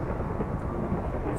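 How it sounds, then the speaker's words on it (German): A thunderstorm in the Minecraft video game, with a short burst of steady low rumbling thunder and rain. "dieses Gewitter"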